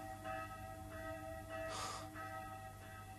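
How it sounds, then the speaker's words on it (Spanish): A new church bell cast in an iron foundry rings with a sustained, faint, shimmering tone, its hum lingering throughout while a couple of soft strikes swell and fade, heard alone without talk. "dotarla de una campana nueva, que también se hizo en la fundición de hierro"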